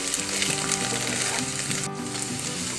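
Paneer cubes fry steadily in oil over medium heat for matar paneer, giving a continuous, close sizzle with occasional stirring and no voices.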